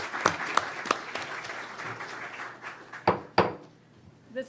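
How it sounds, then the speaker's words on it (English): Scattered applause at a Duval County School Board regular meeting, a few sparse, sharp claps from a small room audience, fading and picking up again in separate bursts. "A huge round of applause as well."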